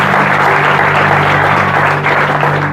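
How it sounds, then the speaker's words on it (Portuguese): A church audience at a spiritual retreat in Switzerland applauds for Jesus, dense and loud continuous clapping filling the room without a break, no speech audible. "você pode aplaudir a Jesus"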